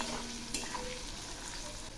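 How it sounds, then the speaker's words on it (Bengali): Potatoes frying in a pan with salt and turmeric being stirred, a faint continuous sizzle with soft scraping strokes and a brief clink of the utensil. "এগুলি এখন নেড়ে দিচ্ছি।"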